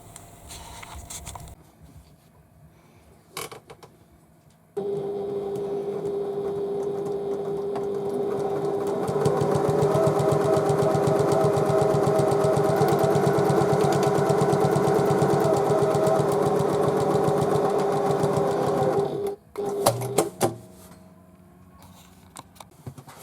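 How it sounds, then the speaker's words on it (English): A sewing machine stitches down the edge of a tote bag, starting with a few clicks, then running in a steady, fast mechanical whir for about fifteen seconds before stopping, followed by a few handling clatters. "So I shall stitch down this edge."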